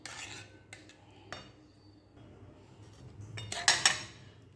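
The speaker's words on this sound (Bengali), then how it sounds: "এবারে সুন্দর করে মিশিয়ে নেব নেড়ে নেড়ে।" Mango pulp is stirred into payesh in a pot, giving soft spoon scrapes and sparse metallic clinks against the rim, with a brighter clatter near the end and no voices.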